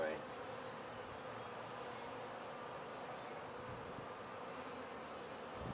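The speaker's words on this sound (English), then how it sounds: "Too many coming out. Bees are in the way." Honeybees buzz steadily around a swarm hive, a dense, even hum of many insects close by, with no voices.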